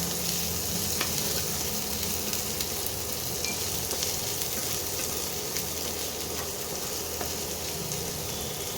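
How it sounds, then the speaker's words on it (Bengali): Steady, dense sizzling of onions frying in a hot pan, loud and close, with faint stirring scrapes and no talking throughout. "পেঁয়াজটা একটু ভাজা ভাজা হবে।"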